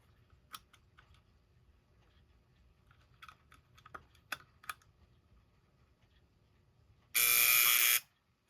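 A 1960 Seth Thomas Canewood alarm clock sits quiet apart from a few soft clicks and taps of handling, then its bell bursts into a loud, harsh ring for under a second before abruptly cutting off.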